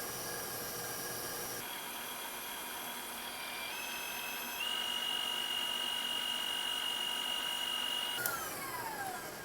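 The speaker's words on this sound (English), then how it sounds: "Then I'm going to paddle it for maybe another 30 seconds or so." Stand mixer with a paddle attachment beats a sweet dough of butter and egg, a steady whining motor hum with a pitch that shifts and rises, close and continuous throughout.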